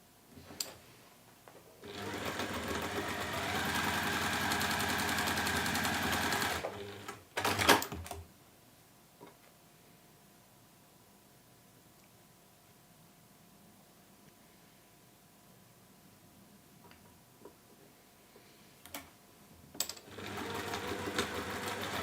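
A sewing machine stitches the felt lining of a ribbon purse in a close, steady whirring run, stops for a quiet pause with a few small clicks, then starts whirring again.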